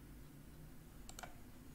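Mouse right-clicks in Microsoft Excel while building a result sheet: a quick pair of sharp, close clicks stands out against a steady low background hum, with no talking over them.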